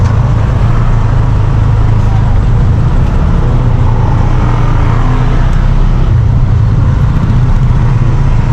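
Steady road traffic near Batangas, vehicles rumbling loudly at close range with engines droning and occasionally revving as cars pass, continuous without pauses.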